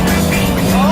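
A car launching hard off the line in a 0-100 km/h test, with a brief, loud, steady engine roar rising toward the end, heard close up without talk.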